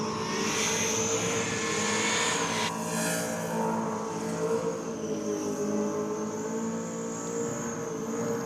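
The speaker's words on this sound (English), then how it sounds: "listen to that supercharger sing" A supercharged car engine revving hard, a steady high supercharger whine riding over a loud continuous engine roar with a shift in pitch partway through, sustained and close.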